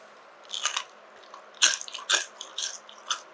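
Crunchy bites and chewing of fried chicken with crab and nuts from a Korean chicken plus new menu, several loud close crunches in a steady rhythm, heard alone.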